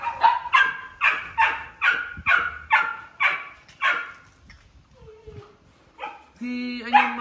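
A red Malinois puppy yelps and barks in a quick run of about eight sharp, close cries while being vaccinated, then gives a few softer whimpers, with someone speaking near the end.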